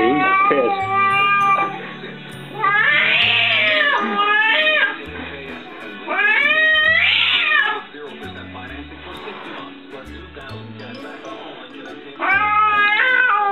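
Close, loud yowling from an annoyed cat: four long, wavering meows spaced a couple of seconds apart, almost wailing. A person talks now and then between the cries.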